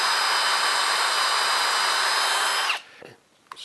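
An electric drill bores holes in wood while a dog bed is being built, a loud, steady high whine running close up for nearly three seconds before spinning down, followed by faint handling clicks.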